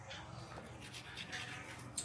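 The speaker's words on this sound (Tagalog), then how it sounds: "Nagtutoothbrush yan mag-isa." A child brushes their teeth with a toothbrush, a quiet, fast scratchy scrubbing that keeps going without a break, close but very faint, with a low hum under it.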